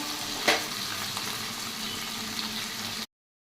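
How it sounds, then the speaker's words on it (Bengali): Fish heads, cut into small pieces, fry crisp in a pan with a steady, close sizzle and bubbling that runs for about three seconds before cutting off, with no talking. "ভালো করে কড়া কড়া করে ভেজে নেব"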